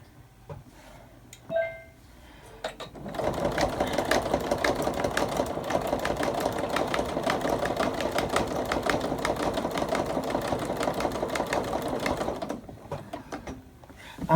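A sewing machine runs a slow bean stitch on a laptop bag, a steady mechanical whirring with rapid needle clatter for about nine seconds after a few soft handling noises, then stopping.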